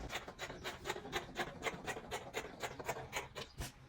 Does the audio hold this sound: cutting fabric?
yes